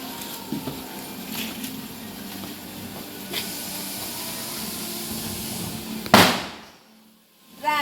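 Diwali firecrackers going off outdoors, a hissing spray of sparks with scattered pops, then a sharp loud bang followed by quiet and a rising hiss as another starts.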